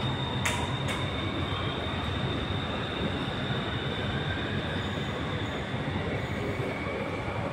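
A Bangkok MRT Blue Line subway train runs underground, with a constant loud rumble and rolling wheel noise, a faint high squeal and a couple of brief clicks near the start.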